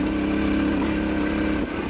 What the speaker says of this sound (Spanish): la moto trabaja muy bien. Para estos terrenos está perfecta esta moto.